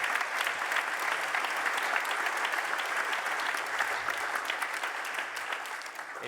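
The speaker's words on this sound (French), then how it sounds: "je pense qu'on peut les applaudir tous les deux" Steady applause from a crowd, a continuous wash of clapping that holds at an even level throughout without voices standing out.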